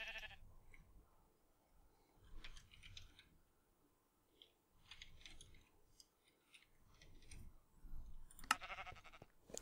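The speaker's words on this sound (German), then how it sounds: "Oh, ein Schaf." Sheep in the video game Minecraft bleat in short, quiet bursts scattered across a calm stretch, with a faint sharp sound near the end.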